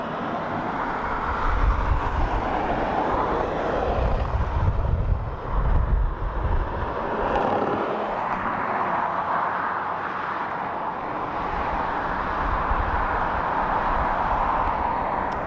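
A Ryanair airliner at Dublin Airport gives a continuous rumbling engine roar mixed with gusty wind buffeting, rising and falling over about fifteen seconds with no speech.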